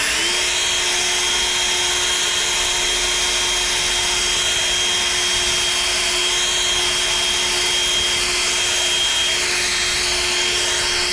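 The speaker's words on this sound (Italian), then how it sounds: "il soffiatore fa anche fatica perché sto continuamente usando il turbo" A leaf blower running on turbo roars continuously and loudly up close, a steady high whine over a dense airy rush that never lets up.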